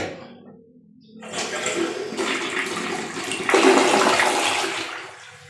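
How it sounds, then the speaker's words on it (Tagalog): A toilet in a renovated bathroom flushes with a strong rush of water that swells, runs steadily, then surges louder near the end before tapering off, close and alone. "Pag-flash po siya, pag-flash."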